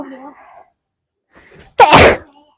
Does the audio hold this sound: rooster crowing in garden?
no